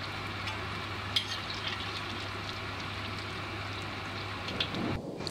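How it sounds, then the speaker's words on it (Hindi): Potatoes deep-fry in refined oil over a high flame, giving a steady, fairly quiet hiss and crackle with occasional small pops before a brief clatter near the end. "बाकी के भी इसी तरह से हम फ्राई कर लेंगे।"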